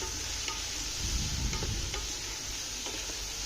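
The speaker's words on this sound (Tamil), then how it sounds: "அடுத்து நம்ம தக்காளியை சேர்த்துக்கலாம்." Chopped tomatoes go into onions frying in a pot for chicken biryani, producing a soft, constant sizzle with faint scattered ticks and light stirring scrapes, heard close and without any talking.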